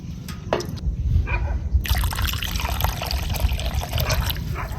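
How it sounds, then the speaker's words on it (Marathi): Kate bel plant roots are rinsed in clean water, with splashing, trickling and dribbling that turn busier and louder after a brief quieter start. "आता हे चांगल्या स्वच्छ अशा खळाखळा पाण्याने धुवून घेते."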